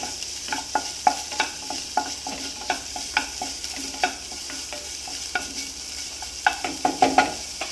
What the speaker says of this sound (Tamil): ஸோ நல்லா மிக்ஸ் பண்ணுவோம்